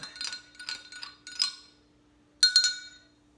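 A pineapple dessert mixture with Grand Marnier liqueur is stirred in a glass vessel, producing light, bright clinks in quick clusters, then a short pause and a final louder burst of clinking.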